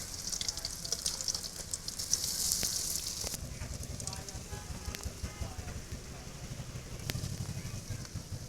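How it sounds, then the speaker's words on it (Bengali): Small crab fritters frying in hot oil in a home kitchen, with a steady low sizzle and crackle that swells briefly early on then settles into a soft continuous bubbling, close and moderately quiet, with no talk. "এই যে এখন আমার বড়াগুলো ভাজা হয়ে গেছে, লাল লাল হয়ে গেছে।"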